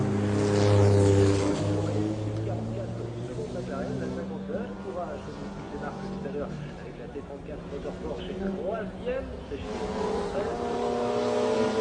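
A racing car spins at the entrance of a chicane during the 1995 24 Hours of Le Mans, its engine roaring and revving loudly with shifting pitch, while a commentator talks over it.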